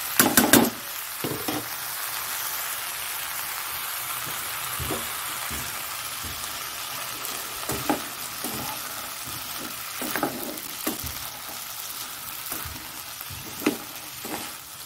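Onions and green chillies frying in a pan give a steady, soft sizzle, with intermittent crackles and light stirring taps scattered across a long stretch, close by and without speech.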